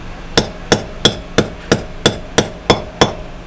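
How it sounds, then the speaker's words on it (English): Nine sharp, evenly spaced claw hammer strikes ring out close by while mounting a satellite dish on a wall, a steady pounding rhythm with metallic ring on each blow. "Remember to use professional hammer, claw hammer, professional."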